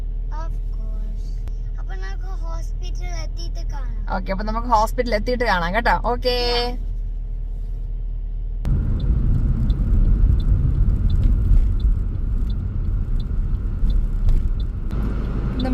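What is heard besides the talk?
car engine warming up, then driving to hospital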